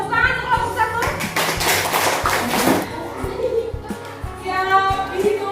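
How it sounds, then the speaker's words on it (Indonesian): Schoolchildren in a fourth-grade classroom clap together for a group, a burst of rapid, loud clapping that fades, with children's voices talking around it. "tepuk tangan untuk kelompok 1"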